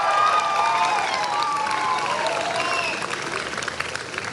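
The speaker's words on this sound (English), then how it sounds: "Give them a big round of applause." Commencement audience applauds the faculty at a spring college graduation ceremony, a dense, loud wash of clapping and crowd noise with some cheering and overlapping voices, easing slightly toward the end.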